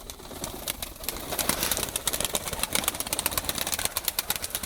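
Racing pigeons with race experience fill a loft with a steady din of fluttering wings and scattered coos, dense and close throughout, with a faint engine-like hum underneath.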